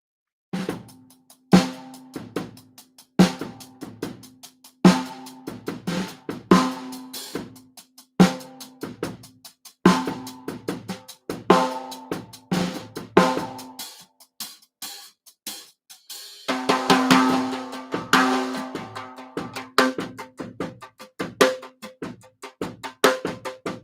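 Vic Firth Dreadlocks wire brushes strike a hi-hat in a steady rhythmic pattern of crisp, bright hits, becoming denser and more shimmering near the end, played alone without talk.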